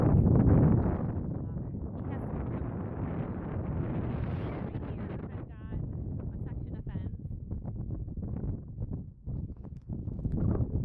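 Wind buffets a microphone outdoors in rough, steady gusts, loud rumbling noise filling most of the clip with a few brief dips and no words spoken.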